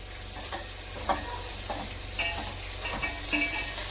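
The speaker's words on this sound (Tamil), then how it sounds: "வெங்காயம் நல்லா அருங்குது" Onions frying in a pan for a potato kurma sizzle steadily up close, with a few soft stirring clinks and scrapes over a low hum.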